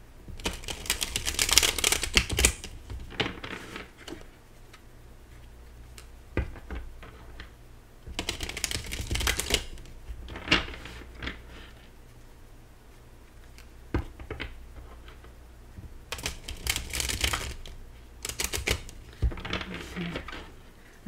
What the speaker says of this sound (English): Let's just shuffle the cards three times.